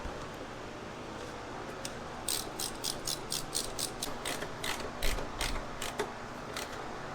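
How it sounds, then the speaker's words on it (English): Ratchet wrench tightening bolts on a Polaris Sportsman 700 ATV, a burst of quick rapid clicking strokes in a close, quiet workshop, starting after a short pause, no talk. "Let's go ahead and bolt that down."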